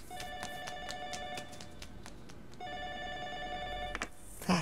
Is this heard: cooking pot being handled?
no